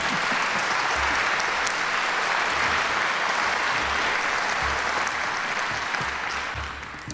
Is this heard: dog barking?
no